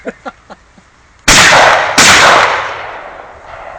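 Gunshots at a shooting range during a bachelor party outing: two loud, close reports about a second apart, each ringing out with a long decaying echo, preceded by a few faint clicks.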